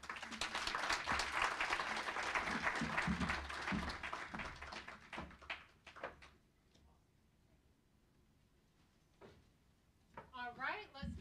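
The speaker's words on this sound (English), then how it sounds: "let's have another round of applause for Dr. Sancha, as well as Kean University" An audience at an evening community event honoring women in public service applauds, with dense clapping for about five seconds that thins into scattered claps and fades before a voice begins speaking.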